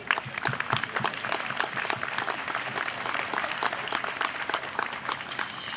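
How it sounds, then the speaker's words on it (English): At an outdoor Memorial Day ceremony, a crowd gives veterans sustained applause, with dense, steady clapping at moderate volume and a faint murmur of the crowd beneath it. "Please join me in another round of applause"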